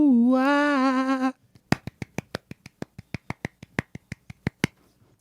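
A woman claps in a quick, even run of about fifteen sharp, close single claps, right after a sung tone cuts off.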